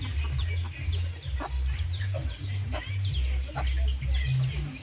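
Native chickens cluck and chirp around a rural farm, a busy overlapping flock close by with a steady low rumble underneath, while a voice talks over them.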